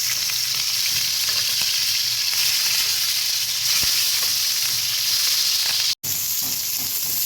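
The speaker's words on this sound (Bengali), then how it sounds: "সেই লবণ হলুদালা মাছটা আমি একদম সুন্দর করে ভেজে তুলব।" Fish rubbed with salt and turmeric frying in a pan, a steady, dense sizzle that runs close and loud throughout with one brief cut near the end.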